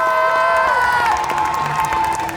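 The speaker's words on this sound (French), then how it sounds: "Je vous demande de l'applaudir" Crowd cheering and applauding at a cosplay contest final at a Japan festival in Tours, loud and sustained, with whoops and shouts riding over the clapping while a tonal music bed plays underneath.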